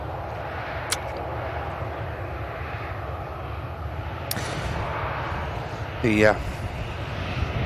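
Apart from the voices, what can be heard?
Scandinavian airline A320neo-family aircraft at Manchester Airport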